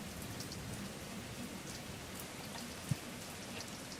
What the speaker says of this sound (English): we were left alone in the dark with a roaring rain